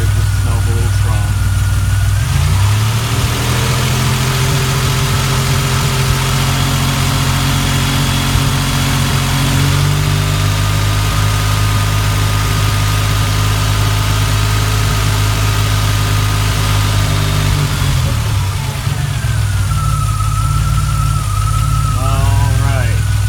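A DeLorean engine with a lumpy idle rumbles steadily up close, its low drone holding at an even pitch for the whole stretch with a faint mechanical ticking over it and slight shifts in tone midway and near the end.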